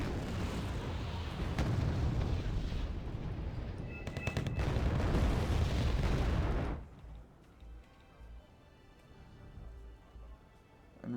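Tank fire and explosions in the strategy video game Wargame Red Dragon, a forest battle with dense, loud rumbling booms and gunfire for several seconds before the barrage drops away to quiet background.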